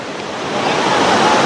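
Sea waves at a beach in the Andaman Islands, with close, steady surf washing in as a continuous rushing hiss that swells slightly louder.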